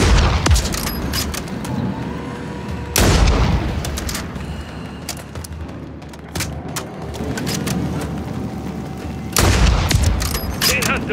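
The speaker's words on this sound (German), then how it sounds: "Feindliche Schüsse!" Enemy gunfire in a Call of Duty Modern Warfare 3 mission: loud booms and rattling bursts of shots crash in repeatedly at close range, with heavy blasts near the start and end and dense combat noise between.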